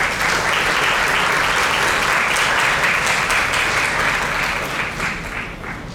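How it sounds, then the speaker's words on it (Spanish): Audience at a Peruvian art history conference breaks into loud, sustained applause with dense steady clapping that holds for several seconds, then begins to thin slightly toward the end. "Recibámoslo con un fuerte aplauso, por favor."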